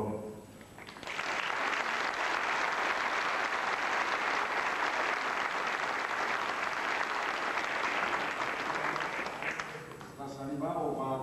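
An audience claps at a folk music concert at the Teatro Campoamor in Oviedo, a dense, sustained round of applause lasting about nine seconds before fading. Voices can be heard at the start and the end.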